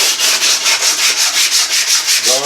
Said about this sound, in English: sand it down, and you can use your hand or a palm sander